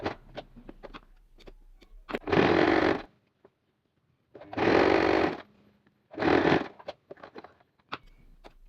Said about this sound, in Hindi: दूसरे स्ट्रैप को भी मैं इसी तरीके से सिलाई करके बंद कर लूँगी।